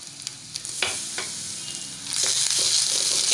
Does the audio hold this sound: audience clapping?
no